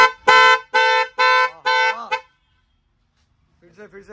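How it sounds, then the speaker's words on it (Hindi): Uno Minda 816 car horn sounding in four firm, evenly spaced blasts and a shorter fifth, loud and close, then a faint tail of other sound after a pause. "ये हॉर्न काफी स्ट्रांग है।"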